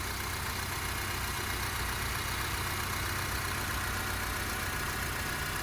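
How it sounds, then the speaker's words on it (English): A 2008 Honda Civic EX engine idles steadily with a smooth, even low rumble and a constant hiss, no voices. "So the vehicle is currently running, as you guys can tell, nice and smooth running engine."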